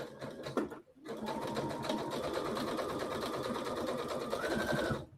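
A Brother SE700 sewing machine stitches a zipper headband in one close, steady whirring run of about four seconds, after a short pause near the start.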